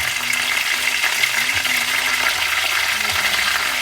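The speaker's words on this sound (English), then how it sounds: "So the garlic is browning a little bit" Garlic browning in oil in a pan for a bok choy stir-fry, a steady close sizzle and crackle of frying, with a few soft clinks and stirring sounds.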